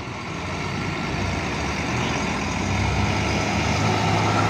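A Menggala Patas intercity bus from Malang rolls through a busy three-way intersection in heavy Lebaran return traffic, a steady low engine rumble that grows slightly louder with continuous traffic noise around it.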